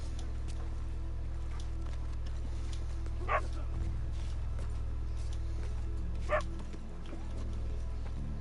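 A dog in the video game Red Dead Redemption 2 gives two brief yips a few seconds apart, moderately distant over a steady low game hum and ambience.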